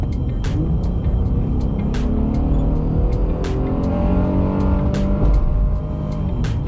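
A Honda Ridgeline pickup engine with an aftermarket intake revs steadily and loudly, with a rough low rumble that swells in brief surges, a few sharp clicks punctuating it.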